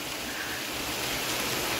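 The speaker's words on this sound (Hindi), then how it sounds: "बारिश काफ़ी तेज़ हो रही है यार भाई" Heavy rain falling steadily, a dense, even hiss of downpour that fills the whole stretch without pause, loud and close, with no voices.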